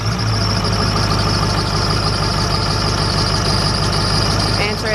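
Idling engine of a lifted Ford F-350 dually pickup with a chirping, squealing serpentine belt near the alternator, a steady loud rumble with a repeating high squeal throughout.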